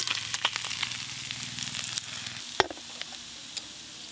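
Parshe fish frying crisp in a hot pan give a steady, close sizzle, with a few sharp clicks and taps from stirring or turning.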